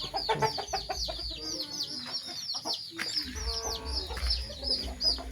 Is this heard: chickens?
yes